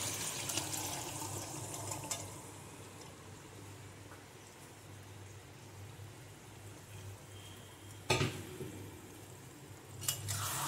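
Cooked chickpeas and their water pour steadily into a pot for several seconds, with a couple of sharp clinks of metal near the end.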